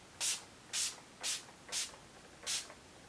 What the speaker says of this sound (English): Then I take my Urban Decay All Nighter Setting Spray and I just set my face